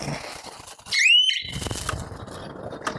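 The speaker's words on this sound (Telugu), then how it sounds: "ఇది అలారం అండి ఇప్పుడు అలారం బంద్ చేస్తున్నా" Electric fence energizer on a box-type jhatka machine sounds its alarm: a single loud, rising electronic whistle-like tone lasting about half a second, close by, followed by low background noise.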